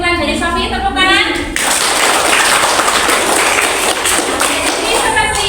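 Classroom applause for a student's summary: a teacher's voice opens, then a burst of many hands clapping takes over and continues loud and dense for several seconds, with voices briefly returning near the end.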